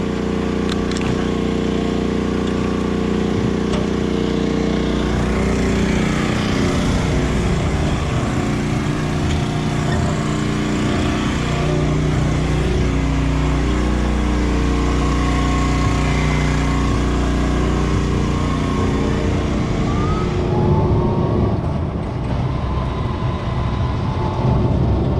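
Electric prototype UTV, the Alpha 1, on its first test lap, producing a steady loud mechanical hum and whine with rumbling low tones, continuous throughout without any talk.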